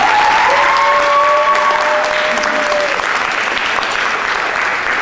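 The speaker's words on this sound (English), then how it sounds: "So let's give Greg another applause" Loud, sustained applause from an audience at a high school spring instrumental concert fills the space evenly, with a couple of brief tonal whistles or cheers near the start.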